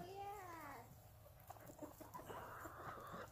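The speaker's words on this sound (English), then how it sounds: "Feeding the chickens." Chickens on a farm cluck and call as they are fed, with a rising, wavering crow-like call up front, then scattered clucks and scratchy pecking noises close by, and a voice faintly in the background.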